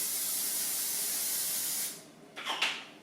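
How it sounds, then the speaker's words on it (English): Cooking spray hisses onto a baking pan in a long, steady, close spray lasting nearly two seconds, followed by a couple of short bursts and faint kitchen clatter. "we're going to be spraying it, spraying our pan with our cooking spray."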